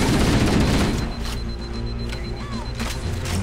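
Gunfire in the Halo: Combat Evolved video game, a loud dense burst of shots at the start that fades into a lower, steadier rumble of continuing game action.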